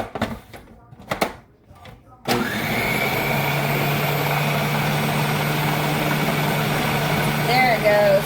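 A blender whirs up to full speed mixing fish taco dressing, starting abruptly after a few soft handling clicks and then running loud and steady with a constant motor whine, with a brief voice near the end.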